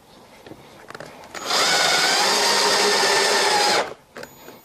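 A power driver whirs steadily for about two and a half seconds as it drives a screw into a pre-cut HiveIQ beehive part. The whir is loud and close, with faint handling knocks before and after.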